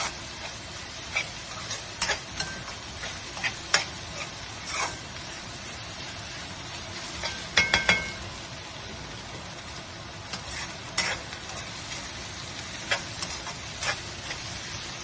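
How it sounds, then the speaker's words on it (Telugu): Noodles stir-fried with scrambled egg in a pan, with a low steady sizzle broken by repeated light clicks and scrapes of a spatula stirring, quiet and close. "ఇప్పుడు మన ఎగ్ ఫ్రై అయిపోయింది కదా, మనం ఇప్పుడు నూడిల్స్ వేసుకున్నాం."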